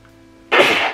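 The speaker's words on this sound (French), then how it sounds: "j'arrête pas d'éternuer dans tous les sens" A single loud, sudden sneeze bursts out close by after a quiet moment.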